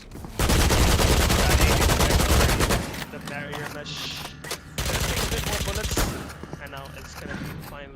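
Rapid video-game gunfire in a 2v2 competitive shooter match, a loud sustained burst of automatic shots followed by a shorter second volley, with a caster's voice faintly under the shooting.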